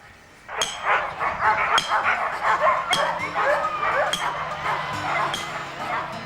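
Several sled dogs bark and yip excitedly in a lively, overlapping chorus before a warm-up test run, close by, with some whimpering mixed in.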